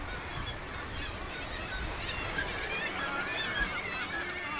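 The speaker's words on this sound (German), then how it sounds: "Hier gibt es einen Felsen, auf dem unzählige Seevögel nisten." A seabird colony nesting on an Icelandic cliff rock, likely including kittiwakes, gives a dense, continuous wash of overlapping honking and calling birds, steady and fairly distant, with no single voice standing out.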